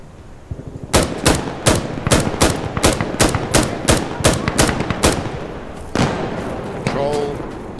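Controlled bursts from an M249 SAW light machine gun in Insurgency: Sandstorm, a steady cadence of about a dozen sharp, loud shots over four seconds, then a pause and a single shot followed by a fading ring.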